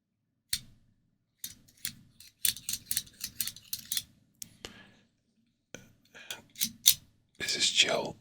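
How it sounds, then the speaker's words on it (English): A cheap, very sharp cigar cutter clips the back end of a cigar: quiet, close, crisp clicks and snips in uneven bursts, with soft whispering between them. "So you put the cigar in here, the small back part, and you cut it like this."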